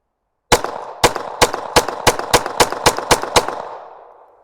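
A Sig P320 or Glock 44 pistol fires a steady string of about ten loud, close shots, roughly three per second, each crack ringing out over a lingering echo after silence.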